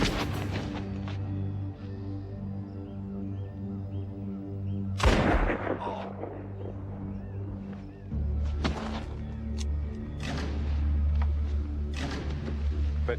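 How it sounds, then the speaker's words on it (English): Gunshots ring out in a werewolf horror episode: one sharp, loud blast followed by several weaker bangs over a droning musical score, with no talking. "Too bad I have to shoot you"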